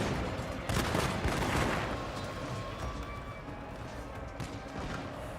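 Matchlock volley in Shogun 2: a ragged crackle of massed musket shots bursts out, densest early, then thins into scattered pops over a continuous battlefield rumble.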